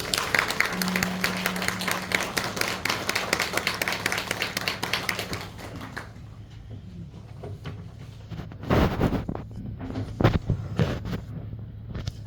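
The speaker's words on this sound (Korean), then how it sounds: "박수로 환영해 주시기 바랍니다." A church congregation applauds to welcome a newly installed pastor at an installation service, a dense spread of clapping for about six seconds that then fades into a quieter room with scattered taps and thumps.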